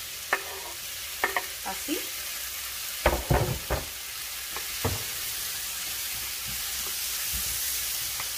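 Onion and freshly added chopped tomato fry in a pan for chicken fajitas, a soft, steady sizzle broken by sharp spoon clacks against the pan, with one short spoken word.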